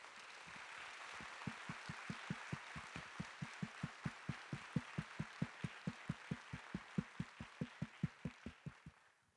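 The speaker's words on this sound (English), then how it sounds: "Let's give them a huge round of applause." An audience at a new educator orientation for Forsyth County Schools gives a big round of applause. A full wash of clapping carries a steady, rhythmic beat of unison claps that runs for several seconds before fading at the end.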